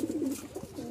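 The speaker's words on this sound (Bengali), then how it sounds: "2 জোড়া কবুতর, মাথা নষ্ট ডাক" A pair of pigeons, a male and a female, gives a short low cooing call nearby, a brief soft burble on its own without talk.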